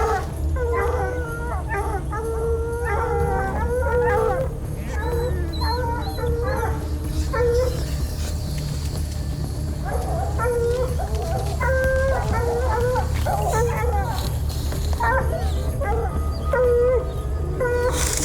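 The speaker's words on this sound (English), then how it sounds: "chaining up the dog." A chained-up dog howls, yips and whimpers in repeated wavering bursts over a steady low rumble, continuing loudly throughout the scene.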